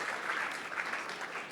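Steady applause from an audience at a temple ceremony speech, dense clapping sustained evenly throughout without pauses.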